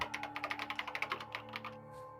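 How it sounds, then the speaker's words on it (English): Rapid keyboard typing in the Danganronpa video game, a quick run of crisp, evenly spaced keystrokes for about two seconds over a faint steady hum, then stopping. "She began typing again."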